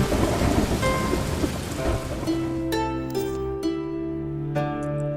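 Heavy rain pours steadily through a thunderstorm, joined by rumbling thunder, with hissing, dense downpour filling the scene and tonal ringing resonances emerging as it eases.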